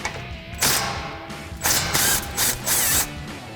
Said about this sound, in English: I'm going to take my 12mm with my 3/8 gun, and I'm going to loosen this bolt up here